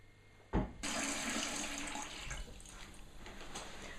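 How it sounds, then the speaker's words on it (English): Beetroot being rinsed under a running kitchen tap: a steady, close rush of water that starts abruptly, then splashes and flows on continuously without talk. "Beetroot needs to be given a quick rinse to get rid of any soil on it"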